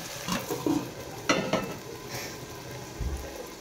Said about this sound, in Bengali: এইভাবে নেড়ে চেড়ে নেবো।